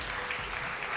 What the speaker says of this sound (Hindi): तो बहुत सारी तालियां कोलगेट के लिए,